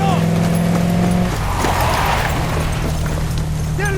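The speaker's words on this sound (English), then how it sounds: "Nomad has just put our target into the truck and is moving towards the exit." A truck's engine in the video game Ghost Recon Wildlands drones steadily and loudly, with a humming tone that drops away after a second, leaving a rumbling drive mixed with other game noises.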